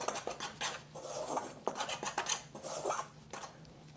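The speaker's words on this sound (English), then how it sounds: "Just going to stir that up a little bit" A utensil stirs half a teaspoon of kosher salt into a mixture in a bowl, making quiet, close scraping and rubbing strokes in an uneven rhythm, with no talking.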